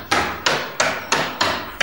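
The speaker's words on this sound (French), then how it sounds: "chaque expert dispose d'un marteau, de 2 tournevis et de 2 pinces pour s'attaquer à la porte dont il doit venir à bout" Hammer blows on a basic house front door during a break-in resistance test, six sharp, evenly spaced heavy strikes, close and loud, each decaying quickly.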